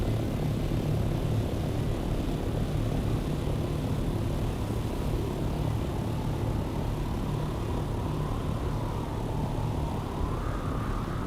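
An aircraft lifts off in the video game Dune: Awakening, a loud steady engine roar with a whining tone that rises toward the end, with no talking over it.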